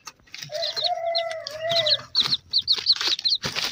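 Free-range country hen and her chicks: a hen gives a drawn-out throaty call, then the chicks' high chirping peeps repeat rapidly and close by, with soft clucks underneath.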